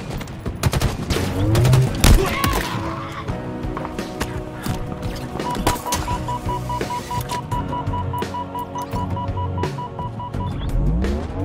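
A plasma gun fires during a Halo Infinite campaign battle, as rapid bursts of sharp repeated shots crackle through dense game noise with brief pauses between volleys.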